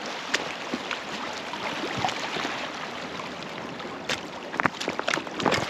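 Someone wades through shallow Lake Superior water on a slick bottom, soft continuous splashing and sloshing under a breezy outdoor hiss, with a few sharper splashes near the end.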